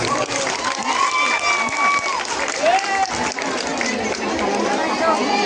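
Concert audience applauding after a dance ensemble's singers are introduced, a dense steady clapping close and loud that runs throughout, with some crowd chatter and voices mixed in.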